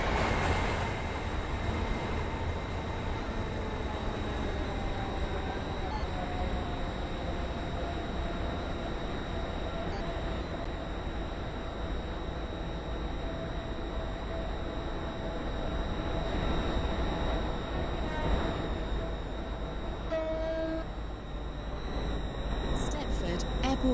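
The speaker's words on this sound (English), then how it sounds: "This train is formed of 6 coaches." A train runs in the Stepford County Railway video game, a steady rumbling roll of wheels and carriage noise that continues unbroken for the whole stretch, with voices heard over it.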